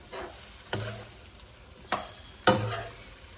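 Eggs cooking in a frying pan as they are turned, with three distinct scrapes or clanks of a utensil over a soft, steady sizzle, close and with no talking.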